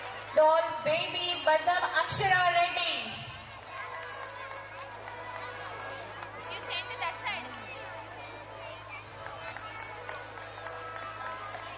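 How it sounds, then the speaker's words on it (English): Audience applause and cheering at a kindergarten UKG convocation, a loud burst of clapping and cheers for the first few seconds that then settles to softer crowd noise under a speaking voice. "put your hands together and give them a big round of applause"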